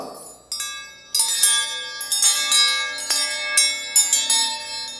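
A metal ladle struck repeatedly, each hit ringing out with a bright, sustained bell-like tone, about eight strikes in uneven rhythm.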